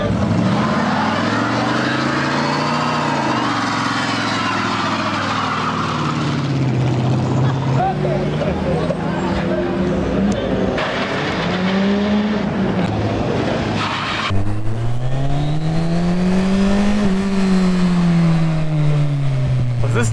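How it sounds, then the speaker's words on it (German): A tuned scooter held at high revs for a burnout, its engine whining and rising and falling in pitch over a rough tire roar, loud and close, with people talking over it. "Mach mal einen Burnout, los!"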